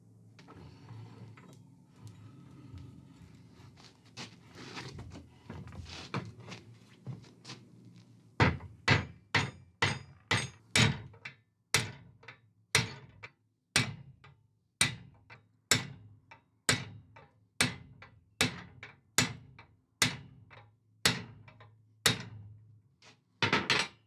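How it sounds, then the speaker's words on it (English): A hammer strikes iron clamped in a vise, forging a fork. After a few seconds of softer activity, close ringing blows follow in a steady rhythm, roughly one per second, about fifteen in all. "that is going to get clamped in the vise, and then we can just forge that out into this second fork"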